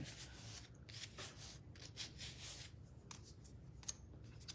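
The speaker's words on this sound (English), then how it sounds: "I'm gonna sand these down first before I do that" Small wooden craft pieces, little kitchen mixer shelf sitters, are sanded by hand with a continuous soft rasping rub in quick back-and-forth strokes, close and fairly quiet.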